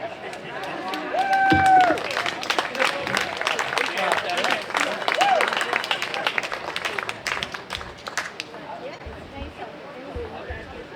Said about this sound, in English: if you give them a big round of applause, they will start jamming